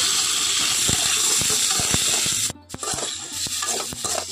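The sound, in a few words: panch phoron and tomato added to hot mustard oil, sizzling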